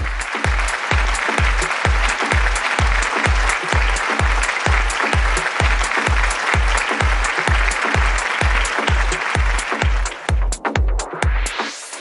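Applause for a realty brand award at a corporate ceremony, loud and sustained, backed by a steady pounding bass beat from stage music throughout.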